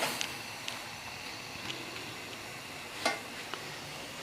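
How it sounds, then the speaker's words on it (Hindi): Eggs and vegetables are stir-fried in a pan with a low, steady sizzle. Sharp scrapes and clinks of the spatula sound now and then, and no one speaks. "जब ये अंडे अच्छी तरह पक जाएंगे तो फिर मैं उतनी देर तक मैं इनको भूनूंगी"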